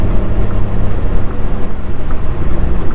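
A Skoda Citigo with a 1.0-litre 75 hp MPI three-cylinder engine cruises along, a steady, loud low drone heard from inside the cabin with road rumble and no talking.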